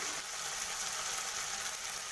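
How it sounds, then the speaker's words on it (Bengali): Ground turmeric, cumin, Kashmiri chilli powder and sugar fry in a pan for chana dal, giving a steady, soft hiss that holds even throughout without pauses. "এটাকে একটু ভালো করে কষিয়ে নেব"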